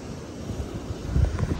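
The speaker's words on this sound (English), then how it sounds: "I think it's too windy" Gusty wind buffeting a microphone at a drain outlet in Floreat, Perth, a low rumbling rush that swells louder toward the end, with no voices.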